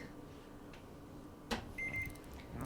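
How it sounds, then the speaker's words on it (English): A kitchen timer being set: a soft click, then a single thin electronic beep of under half a second, faint against quiet room tone. "Set our timer for 15 minutes."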